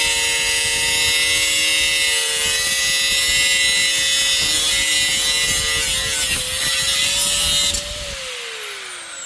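A loud, close power tool makes a long straight cut with a steady whining drone and gritty cutting noise, then winds down toward the end as the motor spins off.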